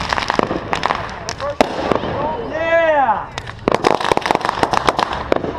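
A backyard Fourth of July fireworks show, with loud close bangs and crackling bursts and a rising whistle from a shell, while people shout and cheer.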